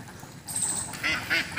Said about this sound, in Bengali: এই দেখেন কত হাঁস এই পুকুরে,